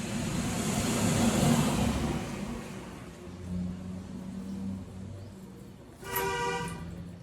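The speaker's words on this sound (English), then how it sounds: "Oh, he even honked" A car passes with a rising engine rumble, then a short, bright horn honk sounds near the end.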